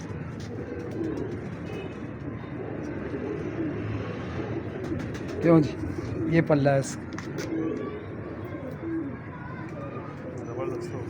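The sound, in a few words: golden pigeon cooing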